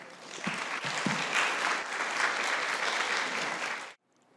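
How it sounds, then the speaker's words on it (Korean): A church congregation applauds to welcome a missionary, a full, warm burst of many hands clapping that holds steady for about four seconds and then stops abruptly into near silence. "우리 선교사님 앞으로 모실 때 우리 같이 박수로 환영하도록 하겠습니다."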